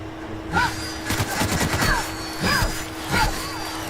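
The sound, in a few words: gunfire in Outer Worlds video game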